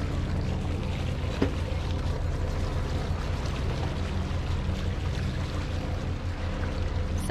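A Leopard catamaran motors through open deep-blue sea, its engine drone steady and low under a continuous wash of water rushing past the hulls, with no talk.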